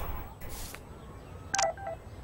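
Phone keypad tones from unlocking a phone in the video game Life is Strange, a short cluster of electronic beeps in quick succession with a couple of fainter tones after, close and clear, with no talking.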